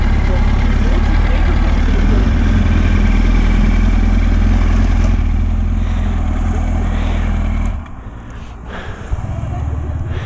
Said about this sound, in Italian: anche il T-Max si è spento